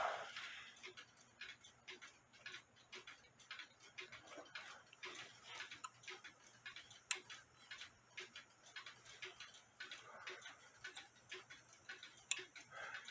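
Steady ticking of a Nisshindo 100-day torsion clock heard through a beat amplifier, evenly paced and fairly faint, continuing for several seconds with a light background hiss.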